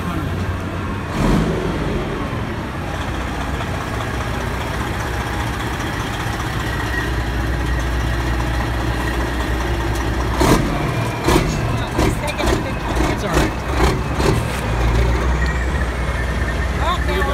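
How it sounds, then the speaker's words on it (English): A heavy tow truck runs its diesel engine at a steady low rumble at a crash scene, with occasional sharp bangs and hisses over it and people talking nearby. "here is the truck that is going to tow the other truck away"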